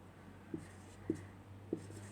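Pen writing notes on paper: three faint, evenly spaced taps or strokes over a quiet room hum.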